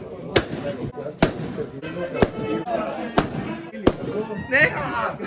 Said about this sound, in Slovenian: če pomižiknem, ko balon pokne